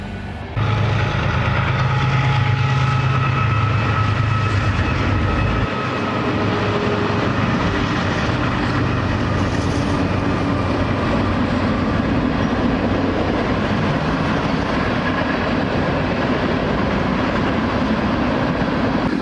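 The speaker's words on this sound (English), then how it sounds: "You can definitely hear the freight trains when they pass by, even when you're in the wigwam." A freight train passes directly behind the historic Wigwam Motel on Route 66 in Holbrook, Arizona. It makes a loud, continuous rumble and rattle of rolling wagons that lasts throughout, with no voices.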